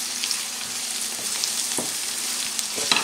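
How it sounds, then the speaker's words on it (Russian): Onions fry in a pan, a steady moderate sizzle with faint crackles and a few soft stirring knocks, close by and without talk. "У меня обжаривается лук."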